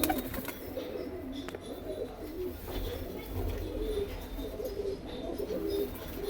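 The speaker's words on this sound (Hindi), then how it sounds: "ये लाल चीना कबूतर है, सफ़ेद आंखों का लाल चीना कबूतर का शौक करो।" Red Chinese pigeons with white eyes cooing softly in low, rolling phrases, mixed with faint chirps and flutters against a busy, murmuring background.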